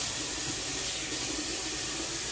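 Kitchen tap running hot water into a sink, a steady close hiss of pouring water with no pauses and no talking.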